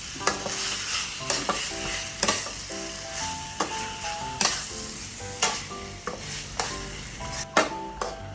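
Cartilage stir-fried with southern Thai curry paste crackles in a steady sizzle, broken by repeated sharp scrapes and clacks of a utensil against the pan in an uneven rhythm, close and fairly loud, with no talking.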